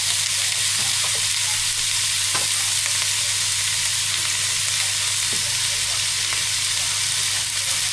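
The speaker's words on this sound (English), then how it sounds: "Clean hands, straight in with the mince, good sizzle." Minced meat sizzles loudly in a hot pan, a dense continuous crackling hiss with occasional stirring scrapes and a low hum beneath, close and steady with no talk.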